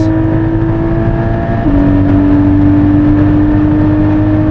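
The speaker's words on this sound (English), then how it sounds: "there's more wind noise than tire noise" Steady road roar inside a moving car running Hoosier TrackAttack Pro tires, a broad continuous drone of wind rush and tire hum with a sustained tonal whine, constant and loud throughout with no talking.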